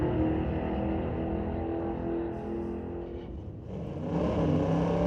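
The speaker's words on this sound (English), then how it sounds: "Big 399 Ford powered wheelie on the right lane." A 399 Ford powered drag race car launching down the track at Mission Raceway Park, a loud sustained engine roar that dips briefly and then swells again as the car pulls away.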